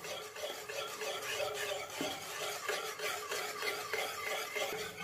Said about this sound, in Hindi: मुसलसल इसको हमने विस्क चलाते रहना है और हाथ बिल्कुल नहीं रोकना।